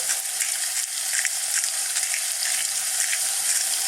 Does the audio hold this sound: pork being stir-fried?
yes